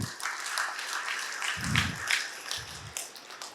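A conference hall audience applauds in a dense, moderately loud spatter of claps, with a low voice rumbling briefly underneath.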